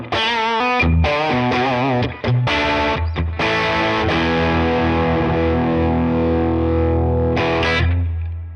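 Electric guitar with humbucker pickups, neck pickup, played through high gain distortion: loud sustained chords and short choppy stabs with harmonic-rich overdrive, ringing out near the close, no voices.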